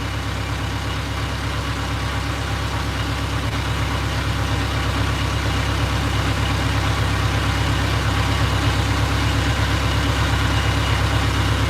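A boat engine idles steadily and loudly, a constant low rumble with no pauses or voices throughout.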